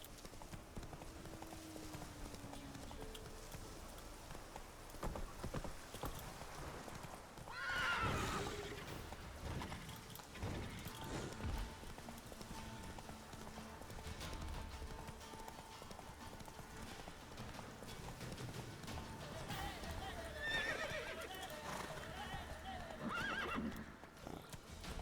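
Galloping hooves of Roach, the horse in The Witcher 3, drum steadily throughout, with a loud neigh and whinny midway and another later, while someone talks intermittently over the ride.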